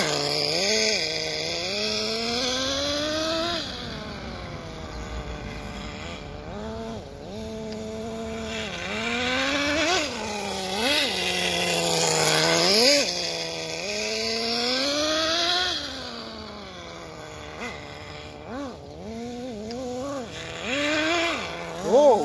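A Traxxas Pro 15 nitro engine in an RC10GT car revs under throttle during break-in, whining up and down in repeated rising and falling sweeps, loud and buzzing, with brief surges and drops over about twenty seconds.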